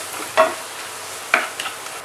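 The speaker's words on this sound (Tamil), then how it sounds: "நல்லா கிளறுங்க." A spoon stirs prawn masala frying in oil in a pan, two distinct scraping strokes a second apart over a faint background sizzle, close and alone without talk.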